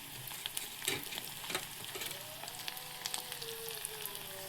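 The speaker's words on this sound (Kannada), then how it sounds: "ಸಾಸಿವೆ ಕಾಳು ಹಾಕೋಬಿಡ್ತೀನಿ ಫ್ರೆಂಡ್" Curry leaves and mustard seeds sizzle softly in a small pan of tempering oil for dal fry, a faint, steady frying hiss with a few sharper spits early on.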